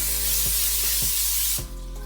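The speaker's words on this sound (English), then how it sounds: "We got some non-stick cooking spray." A steady hiss of aerosol cooking spray, close and continuous for over a second and a half, with faint clicks and a soft background hum.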